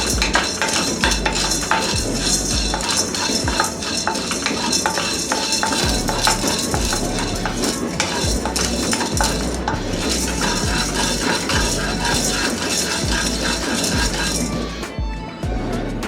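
Chana dal dry roasting in a pan while a spoon stirs it, producing a dense continuous rattle and scraping of hard lentils against metal, loud and close throughout.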